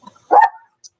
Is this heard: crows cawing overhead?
no